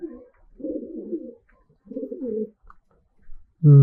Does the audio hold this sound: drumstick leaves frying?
no